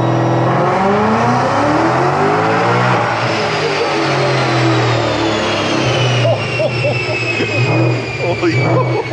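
A supercharged Ford Mustang GT revs hard on a chassis dyno, the engine note climbing steadily in pitch with a rising supercharger whine, loud and close throughout, with some rough mechanical roar near the top of the pull.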